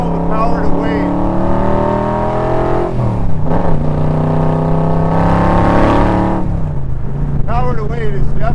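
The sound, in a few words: Roush 427 Backdraft Cobra car accelerating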